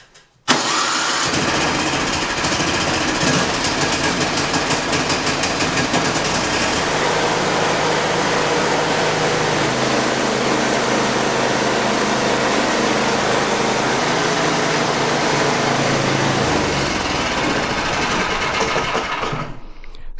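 A snowblower engine is started indoors in a shop and keeps running steadily, a loud continuous mechanical roar that holds through to the end with no voices.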